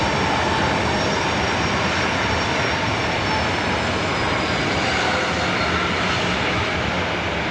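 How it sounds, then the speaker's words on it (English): Delta Boeing 737-900ER jet airliner at LAX, a dense continuous engine roar, loud and even for several seconds with no voices. "Delta Airlines Flight 2210 heading to Seattle, 737-900 ER up next."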